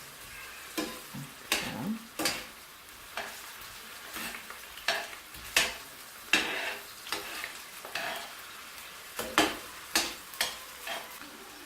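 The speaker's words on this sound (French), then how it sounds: "on va laisser un peu mijoter les oignons pendant au moins 2 minutes avant de mettre la tomate pelée" Onions frying in a pan, a quiet sizzle broken by regular scraping strokes of a utensil stirring at a slow, even rhythm, with a single brief spoken word.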